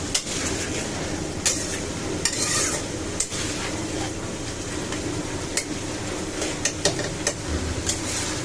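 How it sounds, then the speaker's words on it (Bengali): Fish curry masala for a katla fish and potato curry fries in a pan while a spoon stirs it, a constant close sizzle broken by frequent sharp scraping and clinking strokes against the pan. "এরকম করে নাড়তে থাকতে হবে"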